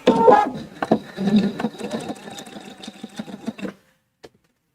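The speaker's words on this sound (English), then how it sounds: "we're going to hop back over to the sewing machine. We're just going to stitch right down this edge" A sewing machine runs in a steady rapid stitching burst for several seconds, sewing down the edge of a scarf scrunchie, then stops, followed by a single faint click.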